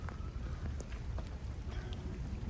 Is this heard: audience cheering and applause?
no